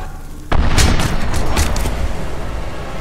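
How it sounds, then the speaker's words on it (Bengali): A sudden loud explosion from the horror game The Beast Inside bursts in after near quiet, then a dense rumbling roar trails off and lingers for a couple of seconds. "মালটা ব্লাস্ট হয়েছে।"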